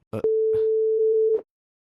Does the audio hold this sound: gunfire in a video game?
no